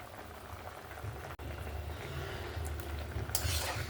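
Raw jackfruit pieces are lifted from a pot of boiling water, a quiet continuous bubbling with a soft scrape of utensils and a brief splash near the end, no talk.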